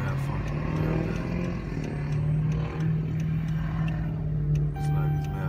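A malfunctioning 2012 Dodge Charger engine runs rough with an electrical fault, a steady low drone and hum that fills the cabin and holds constant throughout, with no clear revs.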